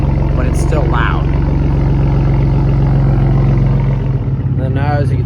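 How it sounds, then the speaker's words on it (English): Gen 2 Ford Raptor pickup with its V6 engine and an aftermarket exhaust, warmed up and settled into a deep, loud, steady idle, with brief talk passing over the rumble. "once the truck is warmed up and it's idled down, it's just got a nice funky idle"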